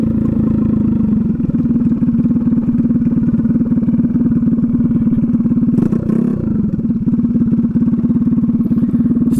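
Drag scooter engine running rich at half throttle, a loud, close, continuous buzzing drone that stays steady, dips briefly partway through, then picks back up.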